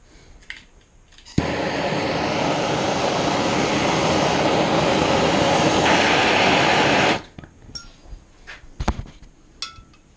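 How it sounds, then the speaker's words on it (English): A torch flame roars steadily for about six seconds as it heats a Damascus steel guitar pick for hardening, with a few light clinks and taps after it cuts off. "I'm just going to use the torch to heat this up."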